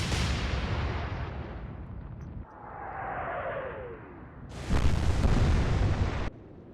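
Heavy naval guns firing in the video game Atlantic Fleet, with a deep booming salvo, a rushing whistle of shells in flight, then another loud roaring blast, close and powerful, with no talk.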